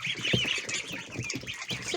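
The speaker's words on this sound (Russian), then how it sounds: "Цыпленок, утенок." High, rapid peeping of chicks and ducklings fills the clip, many small chirps overlapping with soft quacky notes, close and continuous.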